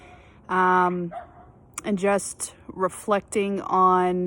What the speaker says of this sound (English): You might hear the neighbor dogs barking.